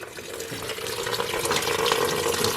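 New coolant pours out of a BMW E36 engine in a continuous close hissing, splashing stream that grows slightly louder as it goes.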